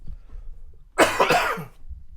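A single harsh cough bursts out close by, a short rough fit lasting about half a second against a quiet background.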